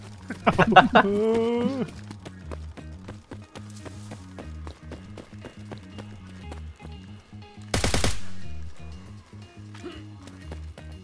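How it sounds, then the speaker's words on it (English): Gunfire in the video game DayZ: rapid regular bursts of shots run throughout, under loud gameplay sounds, with a sharp louder burst partway through and shouted voices at the start. "Who's shooting?"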